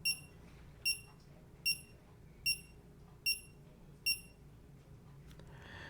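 A MiLi MiTag luggage tracker alarm gives six short, high electronic beeps at a steady, evenly spaced rhythm, fairly faint against a low background hum.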